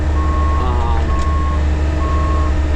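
Repeated electronic reversing beeps from a truck backing in on a farm, steady even pulses over a continuous loud diesel engine rumble, close by.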